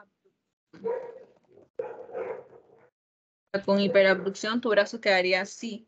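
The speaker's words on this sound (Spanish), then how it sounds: "Perdón por mis perros." A person talks quietly, pauses, then pet dogs indoors break into a burst of loud, close, sharp barking that lasts a couple of seconds.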